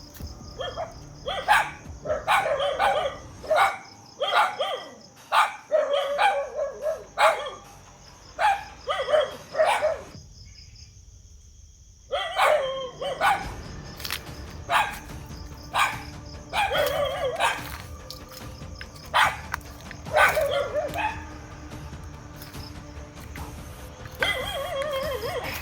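Dogs bark repeatedly outdoors at night, sharp volleys of barks in irregular bursts, with a constant high insect or cricket drone behind them and a short quiet pause midway.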